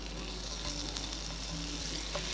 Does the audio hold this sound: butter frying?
yes